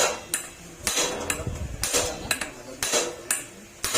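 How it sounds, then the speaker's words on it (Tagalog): A hammer strikes a nut again and again to drive a crankshaft out of a motorcycle engine crankcase. The sharp metallic clanks are close and loud, coming roughly once or twice a second. "Ilagay nyo yung nut mga sir tapos saka nyo siya pukpuk ito."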